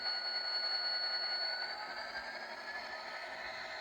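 Atlas GP40-2 model locomotive running steadily, a continuous whirring motor hum with a faint high whine, even in level throughout, with no talking.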